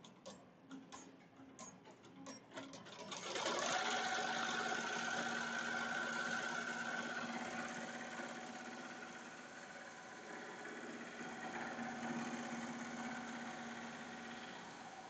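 A Melco Summit embroidery machine stitches lettering onto fabric, a steady loud mechanical whir with rapid needle clatter that starts after a few softer taps and then runs continuously.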